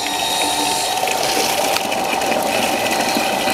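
Water pump running with an automatic pump controller fitted, a loud, steady mechanical whine and hum holding constant without pause, close by, with no voices.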